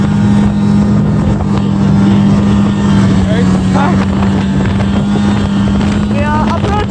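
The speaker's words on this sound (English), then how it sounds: "It is very windy." Steady engine drone with constant rushing wind buffeting the microphone on a frozen lake during an ice camping trip, loud and close throughout, with people talking over it.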